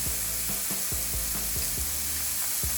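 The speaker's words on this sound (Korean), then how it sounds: "양파는 2분 내로 볶아주세요" Sliced onions sizzle in a hot pan with soy sauce, oyster sauce, sugar and water. A steady hiss of frying is broken by repeated light scraping strokes as they are stirred, close and alone without voices.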